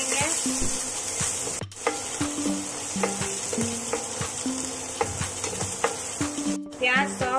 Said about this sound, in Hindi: प्याज को हल्का सॉफ्ट होने तक भून लेंगे।